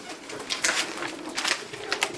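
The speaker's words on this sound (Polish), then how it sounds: "Tu jest jeszcze jakiś gołąb." Pigeons coo softly in a pigeon loft, a few close, gentle calls repeating over a quiet background with no talking.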